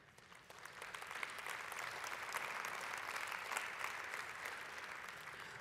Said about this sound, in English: I think that was a teen started that clapping.